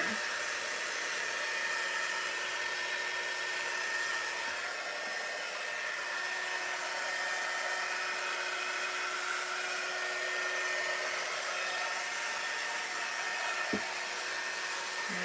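Handheld dryer blowing air to dry paint on a wooden sign, a steady loud hiss of rushing air with a faint tonal whine, continuous and close throughout.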